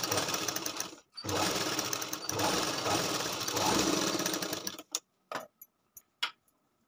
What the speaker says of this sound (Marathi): याच्यावर अजून एक दाबटीप शिलाई फिरून घ्यायची.